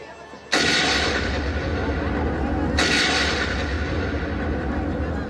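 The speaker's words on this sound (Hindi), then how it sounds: "धमाका हुआ, सब तरफ इधर उधर भगदड़ मच गई" Two sudden loud blasts, one after the other, each followed by a long roaring rumble that fills the space.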